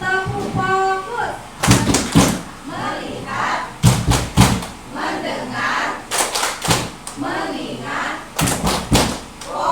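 Group of teachers claps a rhythmic focus clap, tepuk fokus, in sharp bursts of several quick claps separated by chanted speech in a room.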